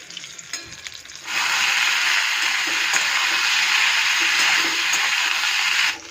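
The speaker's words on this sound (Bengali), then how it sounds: "বেগুন ভাজাটা দেখি, এতগুলো মাছ ভাজতেও তো টাইম লাগবে বলুন।" Eggplant sizzling steadily as it fries in a pan, a loud continuous hiss that starts abruptly after a quiet opening and carries on evenly to the end with no talking.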